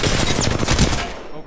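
Rapid automatic gunfire in a video game, a dense loud burst of shots lasting about a second before trailing off, with a voice briefly audible.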